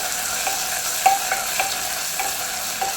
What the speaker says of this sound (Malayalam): ലോ ഫ്ലെയിമിൽ വെച്ച് നല്ലപോലെ മിക്സ് ചെയ്ത് കൊടുക്കാം.